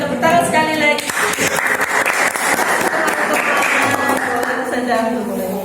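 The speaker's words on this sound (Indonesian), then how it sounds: "Kita tepuk tangan sekali lagi." A school class applauds after a classroom game, dense clapping starting after a moment and continuing steadily, with voices speaking at the start and end.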